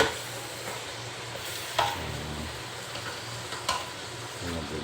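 Chicken biryani stirred in a pot with a spoon, giving a faint sizzle and a few sharp scraping knocks against the pot at an irregular pace, with no voices.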